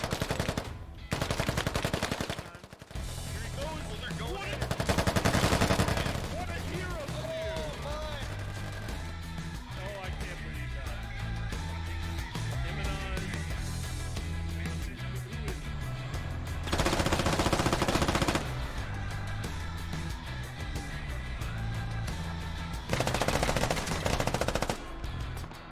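Automatic rifle fire and bursts from the military video game Squad during a room-clearing push with smoke and frag grenades, loud repeated volleys nearly throughout, heaviest in several bursts, with voices talking over the shooting.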